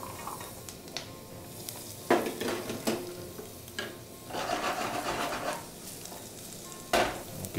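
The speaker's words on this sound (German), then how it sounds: "in der zweiten Pfanne machen wir gleich mal den Sellerie" Celery sizzles in a hot pan for a Christmas menu purée, a steady soft frying hiss broken by occasional scraping stirs and clatters of a utensil against the pan.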